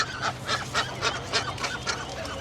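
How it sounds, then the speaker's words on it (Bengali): Domestic ducks call in a rapid run of loud, nasal honking quacks, about three or four per second, close by with no talking. "তো আমাদের হাঁসগুলো এখানে"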